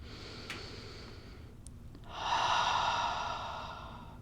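A person takes slow, deep breaths while holding a low back and hip stretch: a soft, drawn-out inhale, a short pause, then a fuller, louder exhale, all close and quiet.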